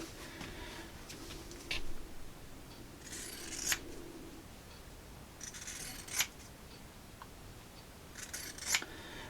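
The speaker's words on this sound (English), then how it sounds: "now using my pinking shears, I'm just going to pink my 2 seams" Pinking shears trim the fabric seam edges of a sewn wine gift bag, giving about four crisp, quiet snips at spaced intervals. No one talks.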